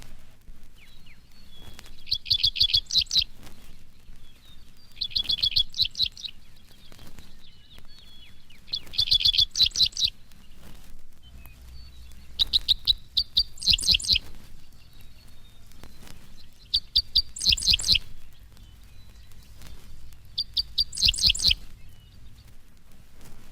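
A dickcissel, a small meadowlark-like songbird of spring fencerows, sings six clear, repeated phrases at steady intervals, each a short burst of bright chips and buzzy trills standing out over a quiet, low rumbling background.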